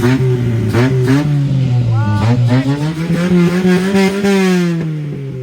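A carbureted engine fires up and revs repeatedly, loud and close, its pitch climbing and falling in several throttle blips before settling into a rising, sustained rev that eases off at the end.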